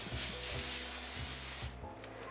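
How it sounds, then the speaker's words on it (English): Cooking spray hisses from a can onto chickpeas spread on a large rimmed baking sheet, a continuous broad spray lasting about two seconds, close and fairly loud. "Let's coat them with some cooking spray so they don't stick to the sheet."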